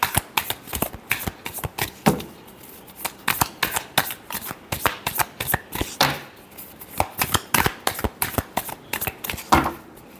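Tarot cards being shuffled during a Hindi-language love reading, a quick run of crisp riffling flicks and slaps at close range, steady and fairly loud with no talk over it.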